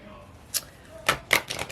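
Several quick papery riffles and slaps of tarot cards being shuffled, close by, in short irregular bursts with a faint hum between.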